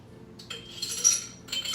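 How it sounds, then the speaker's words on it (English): Ice cubes clinking into a drinking glass, a few bright close clinks and rattles in quick bursts with a short pause between them. "let's fill our glass with ice"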